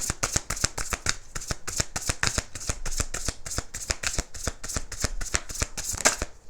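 Tarot cards are shuffled by hand in a quick, even series of crisp riffling snaps, close up and continuous for several seconds, with no talk over them.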